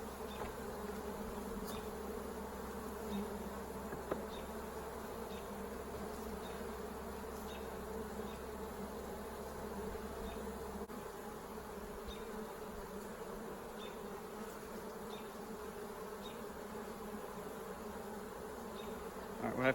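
Honeybees buzz steadily from an open double brood chamber beehive, a dense, continuous hum close to the microphone that holds even throughout with no talking.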